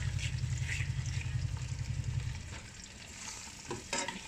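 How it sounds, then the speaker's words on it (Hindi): Onions frying in hot oil in a kadai, a steady close sizzle that is loud for the first two seconds, then eases into quieter crackling with a few brief clinks near the end. "तो मैं अपनी प्यारी सी कढ़ाई में प्याज फ्राई करने"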